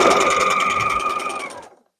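A sewing machine stitching a simple cosplay cape with a fur collar runs in a steady rapid whir with fast rhythmic needle clatter, close and fairly loud, then slows and stops near the end.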